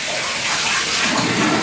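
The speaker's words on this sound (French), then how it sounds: "Je vais lui donner son petit bain tranquillement, le nettoyer, bien le laver." A tap gushes water into a baby's bath, a steady close rushing splash that swells a little toward the end, with no talk.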